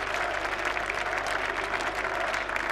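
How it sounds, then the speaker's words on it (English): Cricket spectators at a 1999 England v New Zealand Test match applaud a batsman's shot, giving steady, dense clapping that fills the whole moment with a faint murmur beneath. "The crowd really getting behind Alex Tudor and Nasser Hussain."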